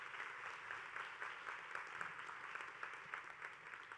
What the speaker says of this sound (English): So let's give all 8 finalists a round of applause.